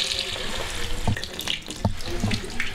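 Hot water runs steadily from a bathroom tap into a sink, a continuous close splashing stream with a few louder knocks and clatters mixed in.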